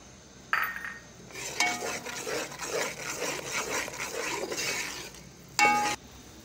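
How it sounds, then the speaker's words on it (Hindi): Gram flour (besan) roasting in a pan, a steady scraping and sizzling stir with light metallic clinks of the spoon against the pan, close and continuous with no talk. "हम इसको भून रही हैं, ये थोड़ा सा रेड हो जाएगा, कच्चापन ख़त्म हो जाएगा"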